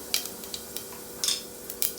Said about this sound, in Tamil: இப்போ சீரகம், கொஞ்சோண்டு சீரகம் போட்டுக்கோங்க.